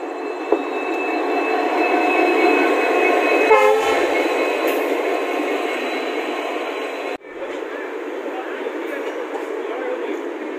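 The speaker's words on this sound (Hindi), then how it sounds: "प्लेटफार्म पर जो है अभी ट्रेन भी जो है आ गया यार" A passenger train arriving at a crowded railway platform on the Tinsukia to Guwahati route, steady rumbling and a long tonal horn-like whine over busy station noise, with a brief rattle midway and an abrupt drop later.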